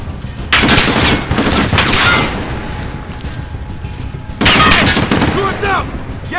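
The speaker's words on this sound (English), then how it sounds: "Suppress that MG!" Sustained automatic gunfire from Call of Duty: Modern Warfare, dense and loud bursts of rattling machine gun fire with booming impacts, broken by a short lull, then resuming, with shouted voices mixed in.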